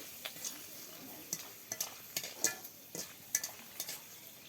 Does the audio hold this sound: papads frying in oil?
yes